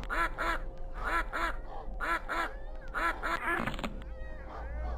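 Ducks in a video game quack in quick repeated pairs and short bursts, clear and fairly close, over a low steady background hum.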